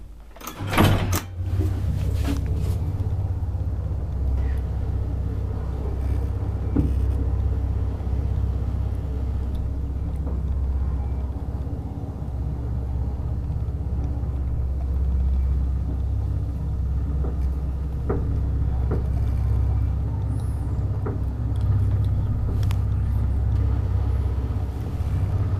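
A 1959 Valmet scenic elevator runs through a ride as a steady low rumble and motor hum, with a sharp clunk near the start, like a door or mechanism engaging, and faint creaks and knocks along the way.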